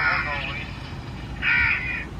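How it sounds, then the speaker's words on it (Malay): Crow caws played through a loudspeaker during a crow-shooting outing, two harsh bursts of cawing separated by a pause, loud and close over steady background noise. "Dia buat bunyi gagak."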